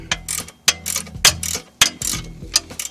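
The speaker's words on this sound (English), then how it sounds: "But this ratcheting wrench is working fabulous right now." A GearWrench ratcheting wrench is worked on a bolt during strut replacement on a 1986-1991 Cadillac Seville. It gives quick repeated clicking bursts with sharp metallic ticks, close up and alone.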